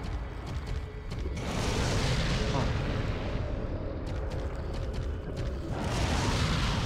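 Grenade blasts in Resident Evil 4, heavy booming explosions with rumbling low-end debris rolling continuously through the clip, loud and close, with game noise layered over.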